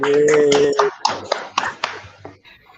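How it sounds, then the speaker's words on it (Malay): Primary-school pupils in a classroom clap for themselves after a lesson, a short burst of claps following a sung cheer, then a few scattered, fading claps. "tepuk tangan pada diri sendiri"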